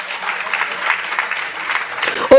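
An audience at a Jain sermon claps in a dense, steady round of applause, ending with a brief louder thump.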